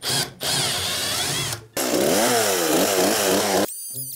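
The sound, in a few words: power saw cutting floorboards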